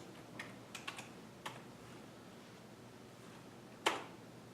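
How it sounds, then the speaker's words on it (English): A handful of computer keyboard keystrokes typing a math function, sparse taps spread over a few seconds with one sharper, louder key press near the end, close and fairly quiet in a still room. "Let me type in my function."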